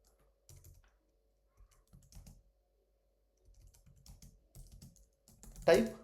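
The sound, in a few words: typing on a computer keyboard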